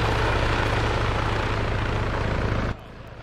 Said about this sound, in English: get ready for the other helos pass